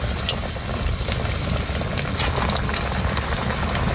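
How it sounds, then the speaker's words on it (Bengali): Egg and onion fritters (dim peyaji) frying in hot oil, giving a dense, continuous bubbling sizzle that holds steady and close throughout, with no talking. "এখন পেঁয়াজিগুলো ভেজে নিব।"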